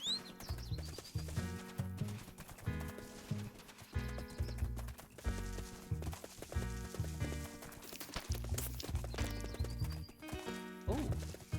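A horse whinnies and hooves clop in a steady running rhythm, repeating throughout, with Wynncraft game-style effects layered over them.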